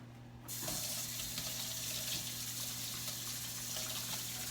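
Tap water runs steadily into a sink as hands are washed beneath it, a continuous close splashing rush that starts abruptly and holds even throughout, with no talk.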